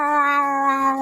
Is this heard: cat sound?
yes